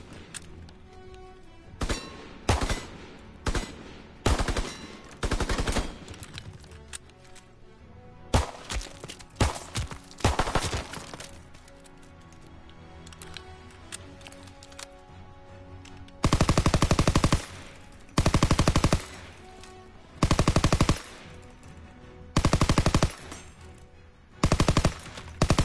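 PO8 pistol gunfire in Call of Duty WW2: loud single shots and quick strings, followed later by several longer, dense bursts of rapid fire, with brief gaps between volleys and no talking.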